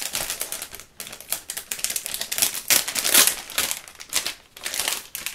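A paper mini-album being opened, with crisp crinkling, rustling and tapping handling noises coming in close, uneven bursts over several seconds.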